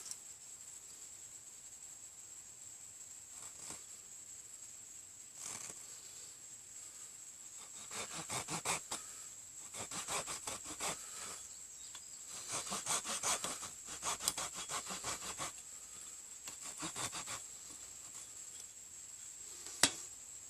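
A Stanley pocket knife carves a divot and notch into a wooden bow drill fireboard, faint close scraping strokes coming in rhythmic bursts with short pauses between.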